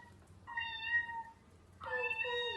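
A kitten gives two clear, fairly high meows, the first steady and the second rising and then falling, each one alone and close with a short pause between them.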